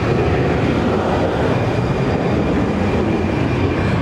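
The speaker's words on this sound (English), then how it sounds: "now easyJet going to Naples on the A319" An easyJet Airbus A319 departing Barcelona airport produces a loud, steady broadband jet roar with heavy low rumble, sustained and close without pauses.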